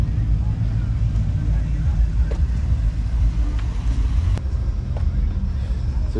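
A Chevrolet El Camino drives past at a Long Beach performance swap meet, a steady low engine rumble with a few brief clicks and knocks over it.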